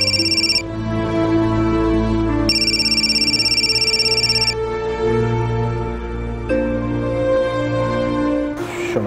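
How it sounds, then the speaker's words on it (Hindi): A telephone rings insistently in a house, its electronic bell trilling in long bursts with pauses, loud and close over a soft background tone. "इतनी देर से फोन बज रहा था"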